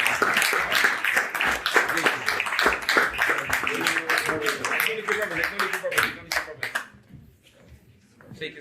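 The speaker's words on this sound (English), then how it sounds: "Come on, give him a round of applause." Clapping from a gathered crowd at a rites-of-passage graduation ceremony greets a young graduate, dense rapid claps running steadily for about seven seconds before thinning out and fading to near quiet.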